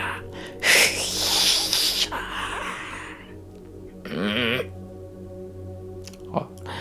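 A person breathing out during a breathing exercise, with a strong breathy exhale early on, then softer breaths, a short voiced sound and a brief click, heard close and alone.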